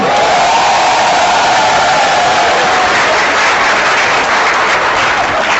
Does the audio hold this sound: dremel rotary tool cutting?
no